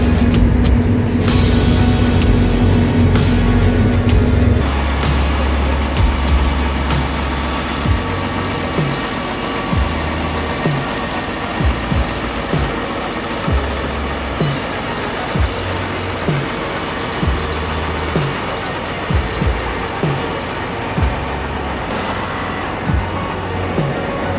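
A big John Deere 4-track tractor engine runs while driving, a loud steady drone with a sharp clattering burst early on, then a continuous rumble marked by regular soft knocks and thumps.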